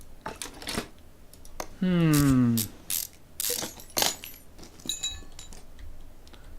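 Ratcheting clicks and metallic clinks of car parts being taken apart in the game Car Mechanic 2015, coming in short bursts with a brief rising mechanical whir, while a person talks over it.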